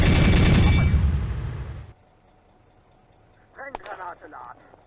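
Burst of 20mm cannon fire with armour-piercing shells in a World War II Eastern Front combat video game, a loud dense volley for about two seconds that cuts off, followed by a few brief sharper sounds.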